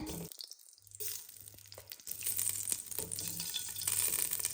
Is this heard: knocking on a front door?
no